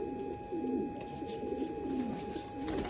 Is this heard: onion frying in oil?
no